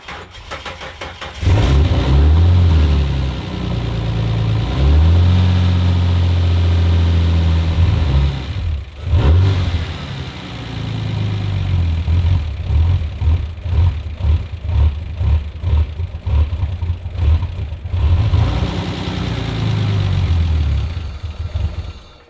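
A rebuilt turbocharged Ford Fairlane engine fires up for its first start, running loud and rough with surging revs and a brief stumble, then choppy, uneven pulsing as it keeps going.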